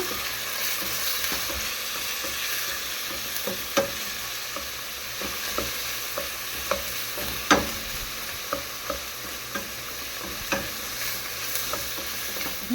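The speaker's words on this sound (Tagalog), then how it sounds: "lalagyan natin ng kamote tops ang ating sinampalukan" Sweet potato tops and tomato stirred into a pot of sinampalukan, with a steady simmering hiss and soft scattered clinks of a spoon against the pot throughout.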